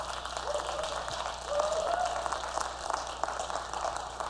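A conference audience applauds steadily after a photo of the speaker's cat appears during a talk on what's next in Nuxt; a sustained, moderately loud wash of claps fills the room for several seconds.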